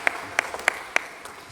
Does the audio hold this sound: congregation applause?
yes